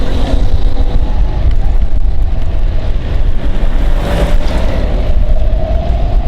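A kick-start manual motorcycle runs in Pakistan with a loud, continuous engine rumble and heavy wind buffeting across the microphone, as if heard while riding. The engine pitch rises slightly near the end.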